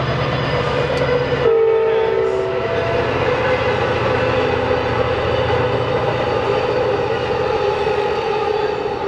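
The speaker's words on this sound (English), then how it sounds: "Hear the train?" A train passing near a campsite in Santa Barbara, a loud continuous rumble with a brief horn blast early on, then a sustained rolling roar close by, with no talking.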